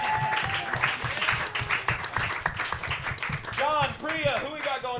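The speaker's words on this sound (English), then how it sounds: "Clap it up, everybody." Audience applause at a New York roast battle comedy show, clapping running under loud, continuous talk from a host on the mic throughout.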